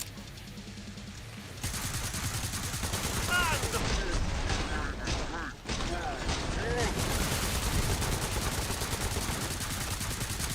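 Gunfire in Killing Floor 2, with dense rapid shots and bursts filling the clip after a quiet start, loud and continuous, with in-game voices speaking over the shooting.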